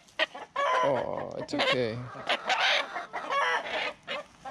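A chicken held in a rabbit cage for transport clucks and squawks in loud, irregular bursts close by, while a person speaks briefly in between.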